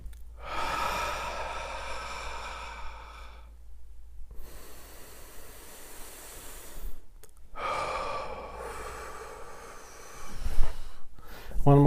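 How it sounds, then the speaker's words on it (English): Deep breathing led as a group exercise: two long, audible breath cycles with drawn-in inhales and heavy, loud exhales, separated by a brief pause and followed by a sharper breath at the end. "let's take a couple deep breaths together"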